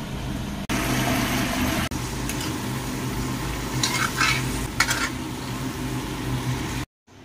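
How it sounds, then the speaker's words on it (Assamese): Goat meat frying in a pan with steady sizzling and intermittent stirring scrapes, a continuous close hiss that cuts out abruptly near the end. "মাংস এয়া ঢাকি ভাজি আছো"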